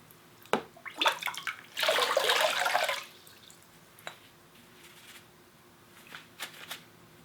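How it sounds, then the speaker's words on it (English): Water splashes onto a waterproof hunting glove in a short burst after a few soft drips and taps, then quieter scattered drips follow, close and fairly faint. "if you've got splashing or spray or anything like that, the water just runs off"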